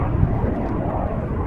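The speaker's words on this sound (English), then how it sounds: "main formation coming in from the front for the newest manoeuvre to be added to the Frecce Tricolori display" Frecce Tricolori jets arriving in formation at an air show produce a loud, continuous, broad engine roar with no breaks and no talk.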